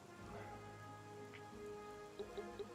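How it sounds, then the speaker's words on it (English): Rain falls in the video game Fell Seal: Arbiter's Mark, a soft steady hiss under faint music with a few light ticking notes near the end, quiet and without talk. "and it's raining"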